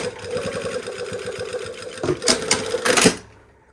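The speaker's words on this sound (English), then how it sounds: "we're going to go to the machine and sew right across that same stitching line that we put in before" A sewing machine runs steadily, stitching straight across the bottom of a Frankie polo, its needle pulsing in a fast even rhythm close by with a few louder clacks near the end before it stops.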